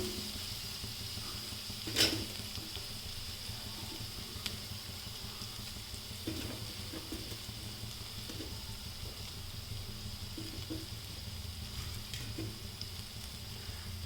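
Ground cumin and black pepper powder roast in a pan with a faint, steady sizzle, a soft stirring scrape standing out near the start and a few light clicks later, quiet throughout with no talk.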